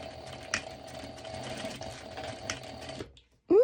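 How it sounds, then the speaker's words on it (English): Sewing machine stitching a bikini top at a steady, fast, even rhythm, close and fairly quiet, stopping abruptly near the end before a brief rising noise. "my cat is playing with my sewing machines"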